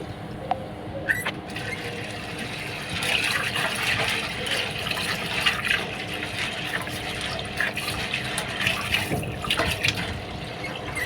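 Chana dal lentils are washed with water, a continuous close slosh and trickle of running and stirred water with small splashes and drips throughout.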